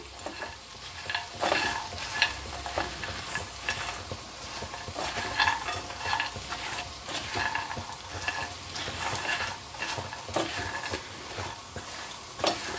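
Dry fruits stirred in a pan over a low flame, a steady soft sizzle under repeated close scraping and rustling stir strokes, even and unbroken, no speech.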